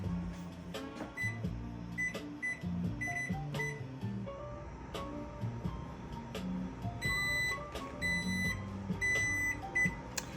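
An oven being set for a plum cake gives a run of short electronic beeps and button tones at irregular intervals over a low kitchen hum, with a few soft clunks.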